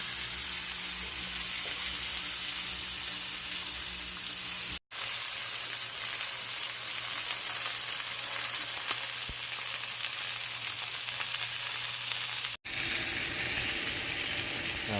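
Grass-fed steak sizzles loudly and steadily in a hot cast iron pan, a dense continuous frying hiss up close with no talking, broken only by two split-second silent gaps.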